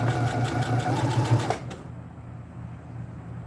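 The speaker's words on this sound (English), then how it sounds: "I kind of just sew like I've seen bags in stores made." A sewing machine stitches a bandana bag in a steady, fast, loud whir for about a second and a half, then cuts off, leaving quiet room tone.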